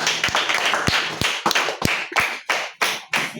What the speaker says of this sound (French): Nous acclamons fort pour la parole.